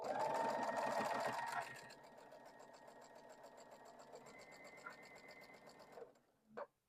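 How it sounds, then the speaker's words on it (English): A sewing machine stitches quilt pieces together, a loud close whir for about a second and a half that eases into a quieter, slower run before stopping with a faint click. "so I can sew right through that spot where those pieces meet"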